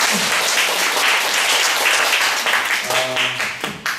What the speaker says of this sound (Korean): 다시 한번 박수 드리겠습니다